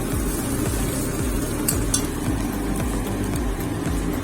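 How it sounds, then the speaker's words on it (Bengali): Chow mein being stirred and tossed in a hot pan, with steady sizzling frying and repeated scraping strokes of a utensil against the metal, close up and continuous. "চলো চাউমিনটা মিশিয়ে তারপরে দেখা"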